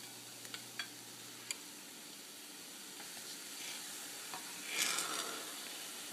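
Gentle sizzling and bubbling from a pot of boiling soy sauce, with a few light clinks and a brief louder splash and hiss as eggs go into the liquid.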